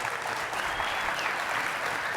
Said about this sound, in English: Yeah, give her a big round of applause.